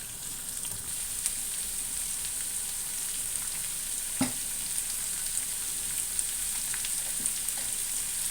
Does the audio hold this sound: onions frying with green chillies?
yes